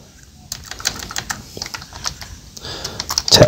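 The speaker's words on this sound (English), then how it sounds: "we're just gonna type in here" Keys on a computer keyboard are tapped in quick, uneven bursts, close and moderately loud, with no talking.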